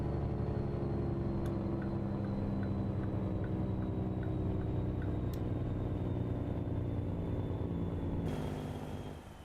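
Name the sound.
truck engine running in a truck simulator video game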